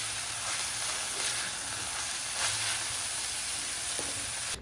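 Spring onions and garlic sautéing in a pan give a steady, dense hiss of frying, close and even throughout, with faint stirring bumps and no speech.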